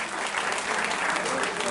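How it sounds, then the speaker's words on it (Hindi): A crowd claps steadily and continuously at a Lakhisha Banjara Jayanti event in New Delhi, a dense wash of applause at moderate distance with no pauses. "उमेश यादव जी को हम भगवान के रूप में एक बार जोर से तालियां"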